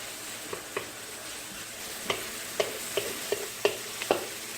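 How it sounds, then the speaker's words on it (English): Onion and garlic sizzle steadily in a pan, with a series of sharp spoon-scrape taps from stirring breaking through the frying hiss. "Cook this onion and garlic down 3 to 5 minutes."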